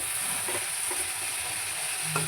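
Bitter gourd and prawns sauté in a hot oiled pan with a steady, close sizzling hiss, broken by a few soft scrapes of a spatula stirring through the pieces.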